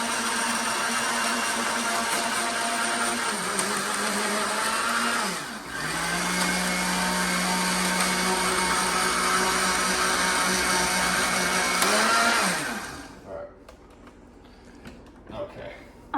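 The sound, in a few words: blender blending a bulking shake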